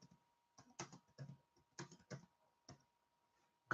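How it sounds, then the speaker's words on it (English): Scattered, sparse keystrokes on a computer keyboard in a quiet room, a few soft taps spaced apart, ending with a louder knock. "I'm now going to start typing"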